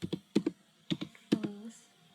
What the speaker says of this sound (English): I will type this again.